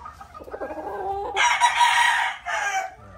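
Hens and chickens at a Filipino poultry yard being let out before feeding, with a rooster crowing loudly and close in two long bursts over scattered clucking; no one speaks.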